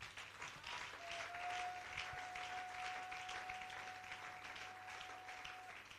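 A church congregation at a Sunday service applauding to acclaim the Lord, steady clapping from many hands at a moderate distance, with a faint sustained tone running through the middle.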